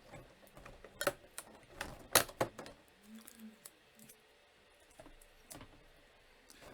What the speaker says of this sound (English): if I can get all the tape off